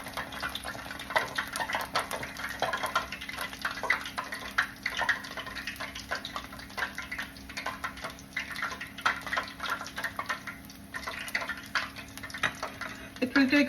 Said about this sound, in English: We will fry these till they are like light golden brown on both sides.